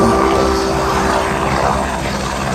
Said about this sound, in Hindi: हेलीकॉप्टर का लास्ट जो स्टॉपेज है वो यही है